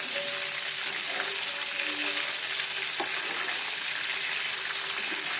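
Slices of raw banana fry in hot oil with a loud, steady, hissing sizzle and occasional small pops, continuous and close throughout.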